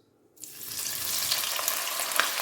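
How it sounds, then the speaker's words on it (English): Sausages begin sizzling and spattering in hot oil after a brief quiet start, a steady close frying hiss with occasional pops. "I'll be frying this first because I want to release the sweetness from these sausages"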